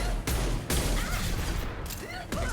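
Shotgun blasts from Mass Effect 2, two heavy loud reports about half a second apart followed by ongoing combat noise and another shot near the end, with no talking.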